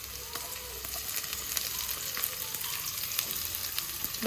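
Chopped onion fries in oil while greens are being cooked, giving a continuous crackling sizzle that holds steady at moderate level, with occasional sharp pops and light clicks throughout.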